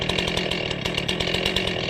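A Stihl chainsaw with M-Tronic carburetor calibration runs loud and close, a steady buzzing engine with rapid pulsing strokes throughout and no speech.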